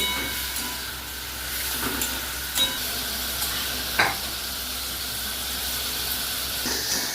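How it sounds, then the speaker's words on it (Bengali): Prawns frying lightly in hot oil in a pan, a steady bright sizzle and hiss with occasional clinks and scrapes of a utensil against the pan, no talking. "এবার এই মাছগুলোকে ভেজে নেব, অল্প ভাজবো, বেশি না।"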